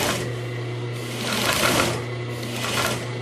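A sewing machine stitches a pillow with piping, running in a close, steady, rapid mechanical hum throughout.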